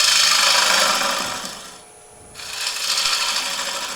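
A turning tool drags across spinning wood on a lathe while a table lamp is shaped, a loud continuous rasping scrape that fades to a brief lull near the middle and then resumes just as strongly.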